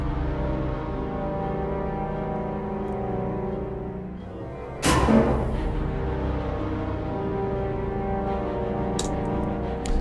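Orchestral strings and woodwinds play sustained chords, with a sharp percussive accent near the middle and brief bright hits toward the end.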